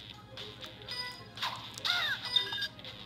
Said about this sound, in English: I just killed a bird.